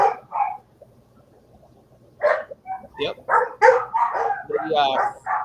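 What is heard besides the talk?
dogs barking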